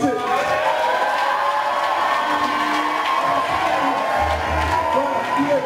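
Guests at a surprise birthday party applaud and cheer in a steady, dense crowd roar that fills the room, with voices calling out through the clapping.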